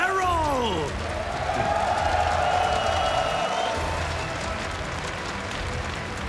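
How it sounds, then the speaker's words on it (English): Crowd cheering and applauding at the StarCraft II esports grand final of IEM Katowice 2022, a dense, steady roar filling the arena beneath a caster's amplified voice. "Put your hands together for NC Sports, Serral!"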